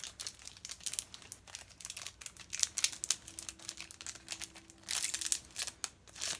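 Crinkly plastic protector being pulled off a Mikasa Beauty eye essentials makeup brush set: close, busy crackling and crumpling in irregular bursts, louder near the end, with no talking.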